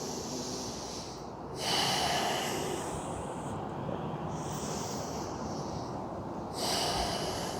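Slow, deep breaths during a yoga session, long airy inhales and exhales cycling steadily at close range with no talking.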